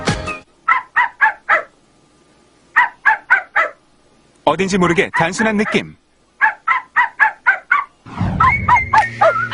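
A voice imitating dog barks in rhythm with a song, quick runs of short yapping barks in repeated phrases, alternating with bursts of music and a bit of talk.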